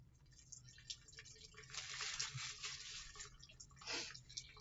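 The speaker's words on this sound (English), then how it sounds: "Using a clean piece of paper towel, I'm going to turn on the sink." Cool water runs from a bathroom sink faucet for denture care, a soft, faint splashing stream that swells for a few seconds and then eases, with no talking.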